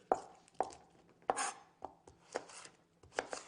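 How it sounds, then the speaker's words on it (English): Fruit or vegetables are chopped on a board with a knife, several distinct close thuds at an uneven pace, quiet and without speech. "Get this nice and chopped up"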